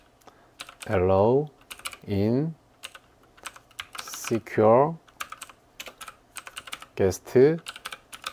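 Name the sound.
typing text on a computer keyboard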